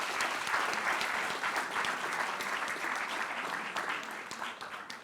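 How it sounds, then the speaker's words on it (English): A crowd at a mayoral installation ceremony claps for the event sponsors, the applause sustained and dense for several seconds before gradually thinning out. "So if we can give them a round of applause for helping us out."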